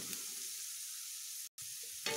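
Onion frying in a pan for a Maharashtrian chivai bhaji gives a close, steady sizzling hiss that cuts out briefly for a moment, then resumes with a soft stir; no speech.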